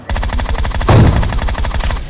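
Loud automatic gunfire from a battle royale video game rattles out in rapid, continuous bursts for about two seconds, with a heavier blast near the middle.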